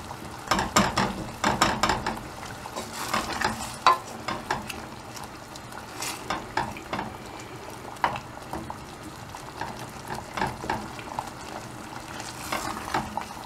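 Tuna being stirred in a frying pan for a simple São Miguel-style tuna rice, with repeated scraping and clattering strokes over a soft, steady sizzle, close and fairly loud, no talking.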